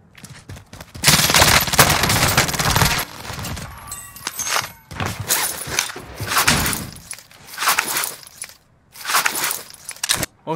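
Heavy video game gunfire erupts in loud, dense bursts, with rapid automatic volleys and single sharp shots separated by brief gaps, close and dominant with no voices.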